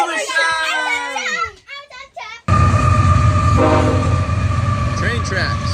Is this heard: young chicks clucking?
no